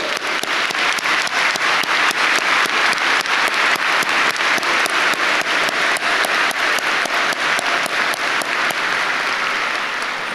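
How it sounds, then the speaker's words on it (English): A graduation audience applauds steadily for about ten seconds, dense sustained clapping from a large crowd filling the hall, with no speech over it. "let's give them a round of applause."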